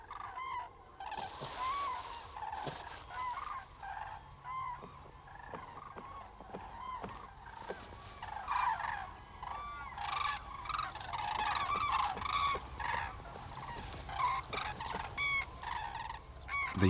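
A flock of European cranes feeding in harvested barley fields on a flat Swedish island, loud overlapping bugling and trumpeting calls repeating throughout over a low outdoor background, no voices.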